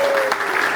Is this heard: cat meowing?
no